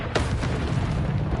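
A Confringo spell explodes in Hogwarts Legacy with a loud, close boom, followed by a dense burst of rumbling noise that fills the short moment.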